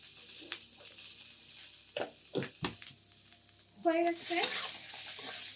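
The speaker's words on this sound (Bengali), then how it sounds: "এইভাবে নাড়াতে থাকবেন।" Egg chilli being stirred in a pan as it fries with salt and a little sugar, a steady soft sizzle with scraping stir strokes; a voice speaks briefly near the end.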